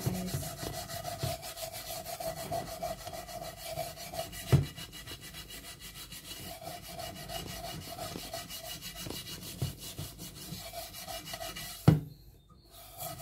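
Close, continuous scrubbing and rubbing of a dirty frying pan during kitchen washing, with a couple of sharp knocks as the pan is handled, then the scrubbing stops and it falls quiet.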